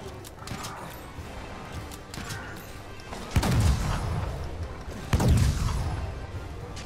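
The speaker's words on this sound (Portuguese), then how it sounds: "vou botar mais bombinha aqui" Bomb explosions in Monster Hunter World: Iceborne during a light bowgun fight against the Kirin, with two loud booming blasts near 3.4 and 5.2 seconds over a steady layer of game ambience and smaller impacts.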